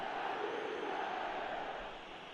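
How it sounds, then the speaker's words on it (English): Stadium crowd roar from the football video game eFootball, a steady broad wash of many voices that holds loud and then eases slightly toward the end. "Now the crowd are demanding that they just finish this off."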